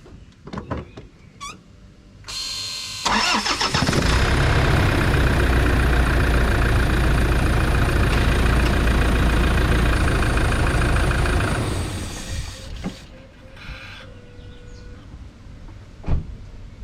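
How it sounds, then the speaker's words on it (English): Car engine after an oil service: it cranks and starts with a loud roar, settles into a steady idle for about eight seconds, then shuts off, with clicks and handling noises before and after. "let's turn the engine on and let it run for a bit"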